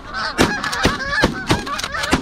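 Geese honk loudly and repeatedly in a field during a goose hunt, several close overlapping calls in an irregular rhythm with no talking.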